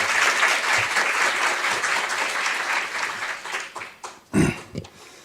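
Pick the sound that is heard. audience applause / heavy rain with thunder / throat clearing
audience applause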